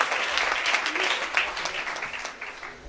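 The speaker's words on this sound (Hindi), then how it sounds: "स्मार्ट वैल्यू के लिए एक बार जोरदार ताली होना चाहिए कि इसने 20 ईयर्स अपने कंप्लीट कर लिए हैं।" An audience at a motivational training seminar breaks into strong, steady applause, a dense clatter of many hands that gradually thins toward the end.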